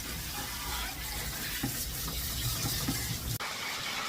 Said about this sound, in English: I'm rinsing off his conditioner, making sure I get it all rinsed off his back end